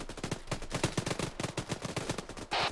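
Rapid bursts of gunfire crack through a close-quarters tactical airsoft or milsim event, dense repeated shots in quick irregular volleys, loud and near, with a sharper burst near the end.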